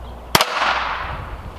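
A single sharp gunshot fired at a carbon fiber target outdoors cracks loudly and close, followed by a brief echo and a long fading rumble of the surroundings.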